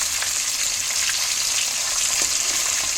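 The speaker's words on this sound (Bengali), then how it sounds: "মাছগুলো ভেজে নিচ্ছি।" River fish (gurjaoli) fry in a pan of hot oil, giving a close, continuous hissing sizzle with no pauses or talk.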